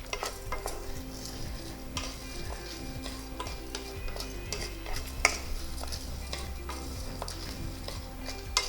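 Lentils roast in a pan with a soft, steady sizzle while a spoon stirs and scrapes against the metal in repeated light clinks and taps, with no one talking.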